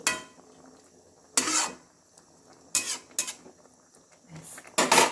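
Lid set back onto a cooking pot of carrot halwa, heard as a few sharp metallic scrapes and clanks spaced apart, close and fairly loud against near silence.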